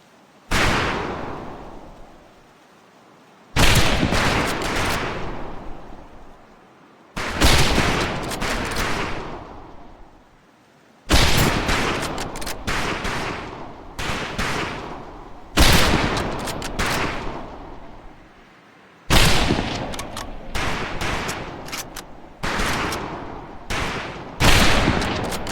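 Repeated rifle volleys crack out at a firing range in a Pacific Assault training scene, six or seven loud bursts of overlapping shots, each dying away before the next, with no talk between them.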